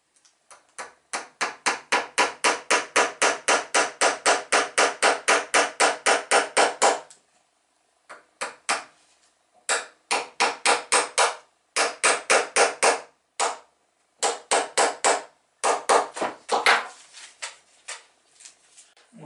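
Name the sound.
hammering small nails into a toy boat's rigging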